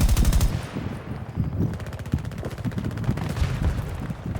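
Machine gun fire rattles through a Battlefield 2042 match in rapid, sustained bursts, loud and dense, with heavier shots layered in and no clear talk over it.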